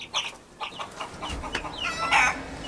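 Chickens cluck repeatedly at close range in short, uneven bursts, with one louder squawk near the end and no talking.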